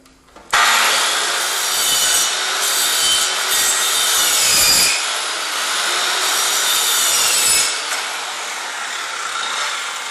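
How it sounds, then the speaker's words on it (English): A saw cuts grooves in the end of a wooden workbench leg, making a continuous loud, close, rasping cut that runs about ten seconds with slight shifts in intensity and no talking. "we're going to cut a bunch of grooves 3/4 inch deep at the end of the leg of the workbench rail"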